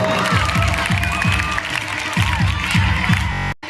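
Crowd noise at a school annual gathering and prize distribution, with cheering and shouting children and a rhythmic series of low thumps under the steady din, ending in a brief cutoff.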